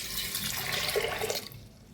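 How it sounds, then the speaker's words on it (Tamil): Water pours into a pressure cooker holding soaked rajma beans, a close, steady splashing stream that stops abruptly near the end, with no voices. "இப்போ இதை குக்கரில் போட்டு தேவையான அளவு தண்ணி ஊற்றிக்கலாம்."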